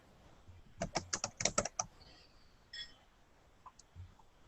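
Quick bursts of typing on a computer keyboard, a rapid cluster of key clicks followed by a few scattered taps, close and fairly loud with no speech.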